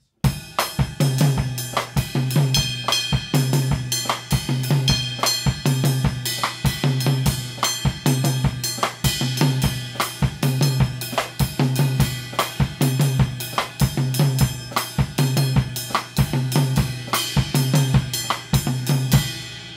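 A steady 6/8 Latin drum groove with a triplet ride cymbal pattern over regular bass drum hits, looping evenly throughout without any voices.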